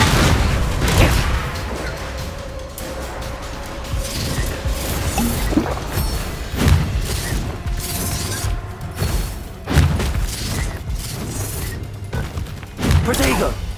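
Repeated spell blasts and bursts of magical combat in the video game Hogwarts Legacy, a series of loud explosive booms and crashes over a busy game soundscape.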